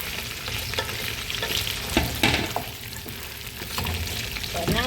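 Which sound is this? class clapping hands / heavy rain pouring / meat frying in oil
meat frying in oil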